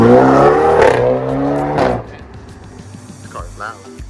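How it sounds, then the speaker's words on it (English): A BMW 335i engine roars loudly close by, its droning rumble fading and dropping after a couple of seconds, with faint voices underneath. "This car is loud."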